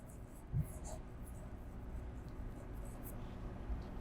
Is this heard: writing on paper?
yes